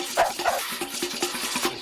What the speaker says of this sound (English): This is my crocodile alarm dog.